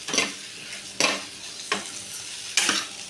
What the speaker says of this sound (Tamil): நல்லா எல்லாமே மிக்ஸ் ஆகிற மாதிரி நல்லா கலந்து விட்டுக்கலாம்.